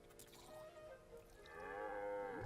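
A cow in the anime Frieren gives one drawn-out, low moo that swells louder toward the end, heard faintly and alone, with no voices over it.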